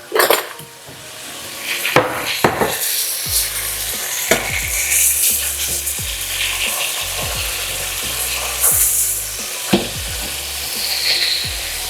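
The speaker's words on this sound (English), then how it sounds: "How long do I fry them for?" Traditional Polish pork cutlets (kotlety) fry in a pan with a steady, close sizzle. Sharp clicks and scrapes from a utensil break in now and then, and no one speaks.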